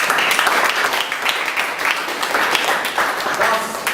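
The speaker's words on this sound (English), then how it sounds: "let's clap hands for your dad" An audience claps for a dad on a radio show, close, moderately loud clapping in uneven pulses with voices mixed in beneath.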